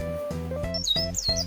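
Bright, quick bird chirps and tweets play as part of a children's animal sound-guessing game, several short calls in close succession, clear and near.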